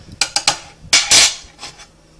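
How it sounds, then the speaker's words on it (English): A spoon stirs cream of chicken soup and chicken broth together in a container, giving a quick series of close, sharp clinks and scrapes followed by a few fainter taps. "Combine those two, stir it together like that, and pour it over the chicken in the crock pot."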